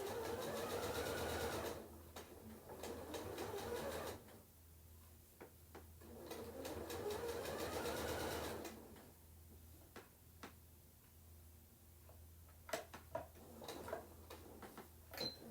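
A sewing machine stitching a placemat runs in two loud whirring bursts, then stops for quiet clicks and handling noises as the fabric is pivoted.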